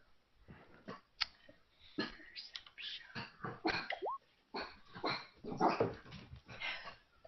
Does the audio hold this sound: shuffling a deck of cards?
no